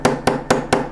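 A riveting hammer textures a folded metal sheet, four sharp, evenly spaced metallic taps in under a second, close and loud with short ringing decays.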